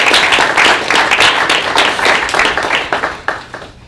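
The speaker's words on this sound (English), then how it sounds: "I think the City of Thunder Bay definitely deserves a big round of applause for this" An audience at a PGA TOUR Canada golf event in Thunder Bay breaks into a loud, sustained round of applause, dense clapping that thins into scattered claps toward the end.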